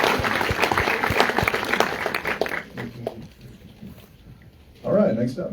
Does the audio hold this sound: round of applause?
yes